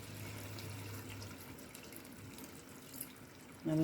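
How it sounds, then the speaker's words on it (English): Water runs from a kitchen tap, to be added to a sweet-and-sour butterbean curry. It is a faint, steady trickle under a quiet room hum, lifting briefly louder at the very end. "now a little water."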